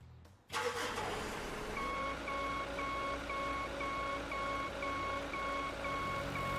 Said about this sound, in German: Oh, jetzt kommt der mit seinem LKW gleich wieder...